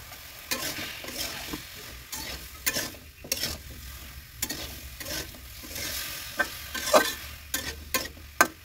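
Bottle gourd going into a simmering shukto curry, with a soft steady sizzle under irregular scraping stirs and occasional sharp clicks of a spoon against the pot, heard close.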